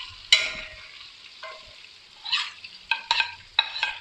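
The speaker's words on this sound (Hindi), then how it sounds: "लाइट ब्राउन कलर आने के बाद इसमें अब हम प्याज ऐड करेंगे।" Onions added to frying mutton in a karahi for bhindi gosht, a quiet background sizzle interrupted by several sharp bursts of scraping and stirring, close and without speech.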